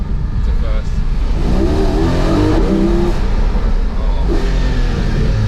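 Porsche 718 Cayman GT4 with PDK gearbox accelerating hard in first gear through a tunnel. A loud, close engine roar with reverberant echo rises steadily throughout, with a brief voice exclamation.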